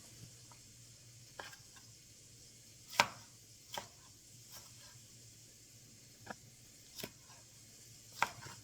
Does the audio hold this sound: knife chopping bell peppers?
yes